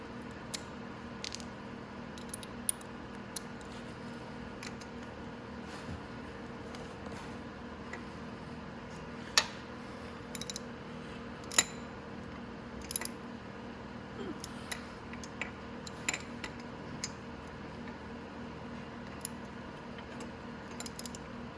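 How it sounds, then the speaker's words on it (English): A wrench works at bolts on the engine of a 250cc X22R Max motorcycle, producing faint scattered metallic clicks and ticks over a quiet steady background hum. "And now we can tighten up those 2 bolts on the outside."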